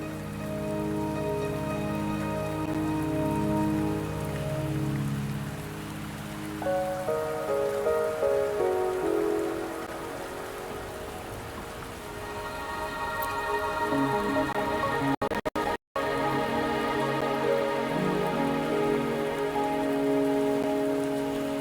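Steady rain patters on surfaces in a video game scene, a continuous soft hiss running throughout under a layered musical score.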